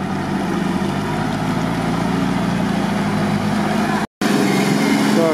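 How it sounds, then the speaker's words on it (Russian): A Grand Cherokee engine with a replaced cylinder head idles with a steady low rumble throughout, briefly cutting out to silence near the end before resuming. "Мотор, говорю, четко работает."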